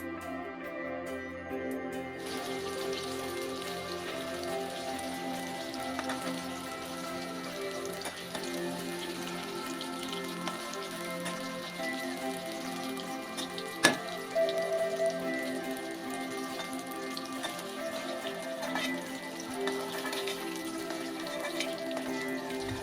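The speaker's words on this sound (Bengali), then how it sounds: "বেগুনগুলো মাছের মতো এপিট ওপিট করে লাল লাল করে ভেজে নিচ্ছি" Eggplant pieces frying in hot oil while being turned until browned, a steady crackling sizzle with a brief sharp clink partway through, no talking.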